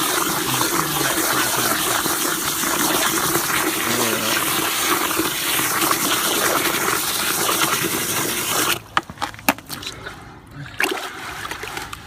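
Water sprays steadily and hisses over crystal reef sand as it is rinsed and cleaned, a continuous splashing wash that cuts off, leaving short drips and sloshes.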